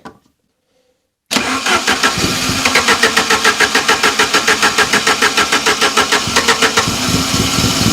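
An abandoned vehicle's engine cranks and catches after a moment of silence, then runs roughly with a loud, fast, rhythmic chugging pulse heard up close.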